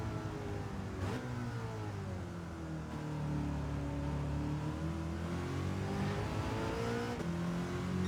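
A 1966 Ford GT40 Le Mans race car in Gran Turismo 7 revs and accelerates, the engine note climbing and shifting through gears in a sustained, fairly quiet drone with no talking.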